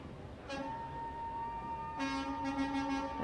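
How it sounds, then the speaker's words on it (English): A Ryder Logistics truck sounds its horn at the 2022 London Santa Claus Parade on an evening street. Two sustained blasts, a little distant, rise over a steady bed of outdoor crowd noise. "truck is honking very festively"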